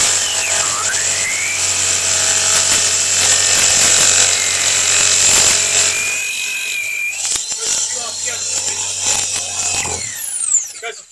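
A jigsaw cuts through second-hand wood with a loud, close, buzzing rasp that runs almost continuously, pausing briefly and restarting near the end.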